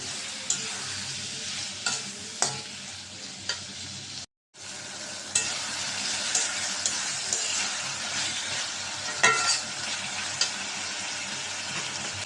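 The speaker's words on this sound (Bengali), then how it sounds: "টমেটোগুলো দিয়ে দিলাম" Ripe tomatoes sizzle steadily in a hot pan while a spoon scrapes and stirs them at intervals, with one brief silent break partway through.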